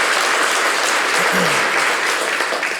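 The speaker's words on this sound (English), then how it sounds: "let's give Lisa and Aunt Tina a round of applause." Audience applause at an annual business conference, a loud, dense and continuous roar of clapping from a large crowd, with a brief voice murmuring in the middle.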